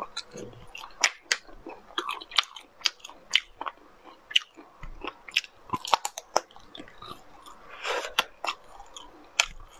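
Spicy air-dried roasted snack chewed bones and all, giving close, steady crunching and biting with sharp cracks throughout and little pause.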